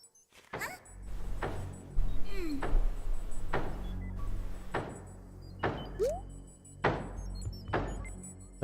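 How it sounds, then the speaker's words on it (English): Knocking and banging on a window in the video game A Hat in Time; around seven sharp, separate thumps at irregular intervals over a low background hum, close and clear, with no talk. "There's someone banging at my window."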